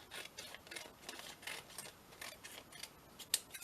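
Scissors cut paper for a calendar journal in a quick run of faint, crisp snips, close by and rhythmic, with one sharper snip near the end.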